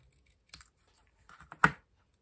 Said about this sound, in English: I'm going to go a little bit tighter in with my paper snips here